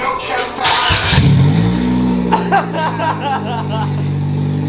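Car engine with straight headers and the cat-back exhaust and mid-pipe removed, cranking and firing into a loud raw rumbling idle with a rev, close by, while people talk over it.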